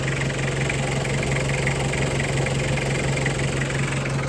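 A car engine idles smoothly and steadily, loud and close, with a constant low hum and even mechanical rumble and no talk.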